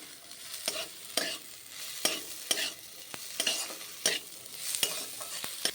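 Salted fried ingredients for a Bengali-style wet Maggi are stirred in a pan, with a spoon scraping in regular strokes, about ten distinct scrapes over a steady close sizzle, with no talking.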